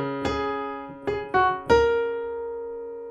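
A piano plays the chorus part two of a song, with the right hand on three black keys: four clear struck notes and chords in a short phrase, the last ringing out and decaying, with no talk.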